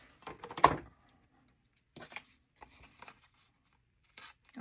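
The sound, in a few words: cutting tough paper with small scissors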